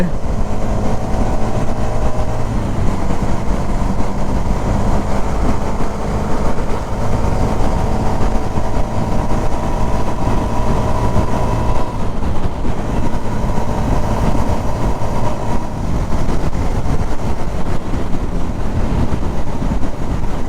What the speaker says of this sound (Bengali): এখন ট্রেন আসতেছে ট্রেন আমরা ট্রেন দেখতেছি ওই যে ট্রেন